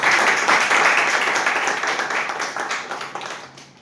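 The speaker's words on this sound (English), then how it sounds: "I would like the audience to give a huge round of applause to all the table topics" A Toastmasters club audience gives a round of applause, a full, even burst of many hands clapping that gradually fades out toward the end.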